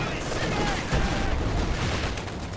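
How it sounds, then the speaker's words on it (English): Incendiary bombing run in Company of Heroes 2, a dense, loud wash of rumbling explosions and crackling fire that runs without a break through the whole moment. "the incendiary bombing run coming in out the back"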